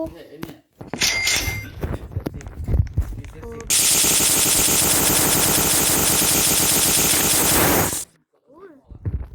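Rapid automatic gunfire bursts from a video game in one long, loud, dense stream lasting several seconds, preceded by scattered clanks and game noises, while voices chatter excitedly around it.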